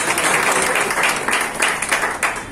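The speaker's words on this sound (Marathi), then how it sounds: "पुन्हा एकदा टाळ्या वाजवा." An audience claps steadily in a hall at a community gathering, a dense, even wash of applause that holds close and loud from start to finish.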